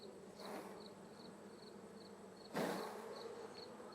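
Honeybees on a hive frame being gently shaken during late-season requeening give a faint, steady buzz, broken by two brief bursts of handling noise.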